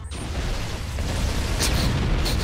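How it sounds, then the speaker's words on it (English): A grenade goes off in Halo CE as a single dull boom that rolls into sustained rumbling noise, with a few sharp crackling bursts near the end. "That's grenade time"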